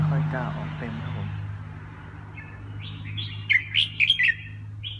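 A songbird sings briefly: a short burst of a few quick, bright chirps and trills rings out near the end, after a voice speaks faintly over a low background hum.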